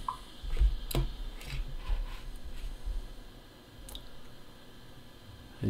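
E-liquid is squeezed from a soft drip bottle into a Heatvape Sniper sub-ohm tank: faint close squishes and small plastic clicks and ticks, scattered irregularly over quiet background noise.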